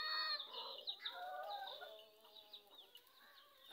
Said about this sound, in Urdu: میں ہوں مرغیاں کی بلانا